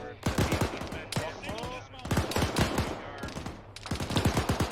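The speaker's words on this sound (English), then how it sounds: "There's still people shooting down there" Gunfire rattles in Arma 3, rapid bursts of close, loud automatic shots in quick repeating volleys with brief pauses between strings.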